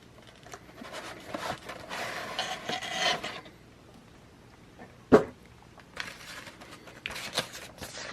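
Box packaging for a Hasbro Dungeons & Dragons: Honor Among Thieves Forge action figure being cut open, giving close rasping and scraping bursts, a sharp snap near the middle, then more scratchy cutting.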